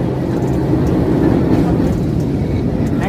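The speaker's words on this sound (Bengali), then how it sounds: "পেছনে এখন ট্রাম আসছে" A tram rolls along a city tram line behind the person, a steady low rumble of rail traffic and street noise running throughout, fairly close and continuous.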